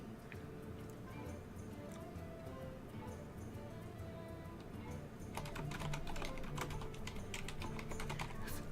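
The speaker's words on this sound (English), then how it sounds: "I apologize for the loud typing." Rapid keyboard typing clatters close up through a livestream, steady at first and growing denser and louder partway through, with no talking over it.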